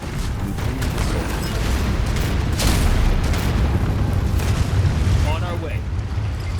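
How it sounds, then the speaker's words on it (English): A neutrino missile launches in the sci-fi strategy game Anno 2205, a loud sustained roaring rumble with a heavier surge partway through. "Launching. Neutrino missile."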